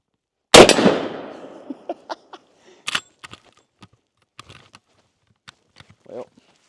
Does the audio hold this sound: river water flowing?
no